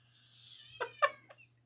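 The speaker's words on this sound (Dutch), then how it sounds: "breng je katten maar weer tot rust" A cat meows several times in quick, short calls over a quiet background hum, close and fairly soft.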